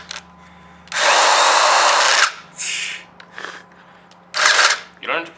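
A power drill bores through plastic while relocating Honda Ruckus turn signals, giving a long loud whirring burst followed by shorter bursts between pauses, with people talking nearby.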